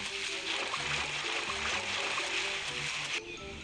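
Rain falls in the ARK: Survival Evolved Mobile video game, a soft, steady, hissing patter with faint splashy water texture throughout.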